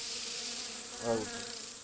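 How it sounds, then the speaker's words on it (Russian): Insects buzzing outdoors by the Pechora river, mosquitoes swarming around people at a riverside camp, a steady thin drone with one closer pass swelling briefly and fading, no talk. "Считаем комаров."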